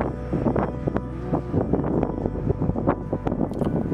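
Wind buffeting on a green mountain pass at about 1,664 metres, a steady low rumble with gusty bursts against the microphone, fairly loud and continuous with no talking.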